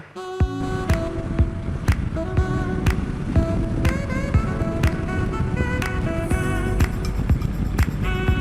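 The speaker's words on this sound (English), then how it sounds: "We are gathered here today to witness the first ride of the Street Scrambler." Triumph Street Scrambler motorcycle on its first ride, engine running steadily with regular loud bumps and clicks recurring about once a second over a constant rumble, and no talk.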